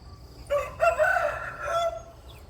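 A rooster crows loudly nearby, its drawn-out call rising and falling, with chickens clucking softly around it.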